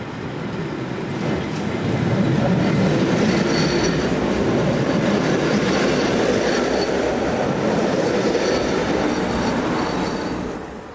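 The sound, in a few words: southbound local passenger train departing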